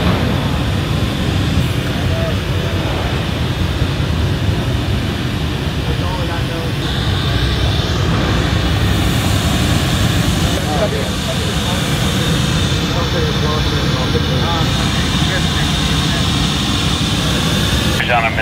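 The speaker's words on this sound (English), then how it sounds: "testing the PA, so that's why the" A loud, sustained jet engine roar played through the PA at Wembley Arena fills the large space continuously, with a steady droning rumble and no pauses.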